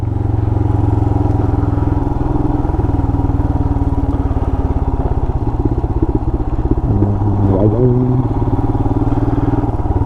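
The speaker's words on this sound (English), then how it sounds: "I'm starting to really love the sound of this bike." A Royal Enfield Himalayan adventure motorcycle riding off-road in a forest drones steadily at close range, a constant rumbling throb with slight rises in pitch as the bike rides on.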